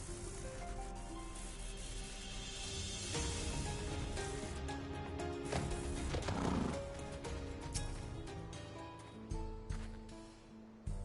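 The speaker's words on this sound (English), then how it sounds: "That's a big horse." A large horse in the video game Final Fantasy XIV neighs and its hooves clop, set in a busy, dense mix of game music and ambience that continues steadily throughout.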